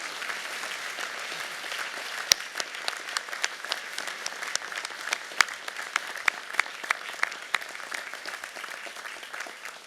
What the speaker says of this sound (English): My notes now call for an enthusiastic applause.